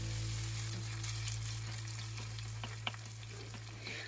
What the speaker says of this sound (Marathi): स्लाइस केलेल्या मिरच्याही लगेच टाकून घेते, म्हणजे त्याही छान फ्राय होतील कांद्याबरोबर।